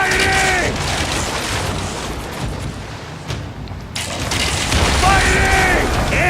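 Ship cannons booming in Assassin's Creed Origins, heavy loud blasts and rumbling mechanical noise rolling through a naval battle, with voices speaking over the firing.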